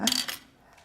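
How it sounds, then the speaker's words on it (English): Small items rattle and clink as a handbag holding pill packets, keys and other bits is rummaged through, a brief close burst of jingling that quickly fades to quiet. "having a good rummage in her bag now"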